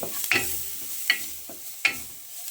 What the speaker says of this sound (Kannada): ಇದು ಒಂದೆರಡು ನಿಮಿಷ ಫ್ರೈ ಮಾಡಿ